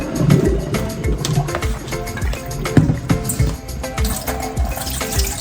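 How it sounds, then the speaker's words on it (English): Rice rinse water pours through a strainer into a sink, a close, busy splashing and trickling with steady gurgling flow and no talk. "I'm using a strainer so I can catch the rice."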